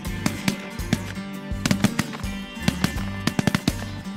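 Shotguns fire at ducks and geese in a rapid, uneven volley of many sharp blasts, some near and loud, others overlapping, scattered across a few seconds outdoors.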